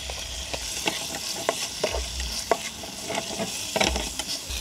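Onions fry in oil in a pan at an outdoor campsite, a moderate sizzle punctuated by scraping stirs and small knocks against the pan, with no speech.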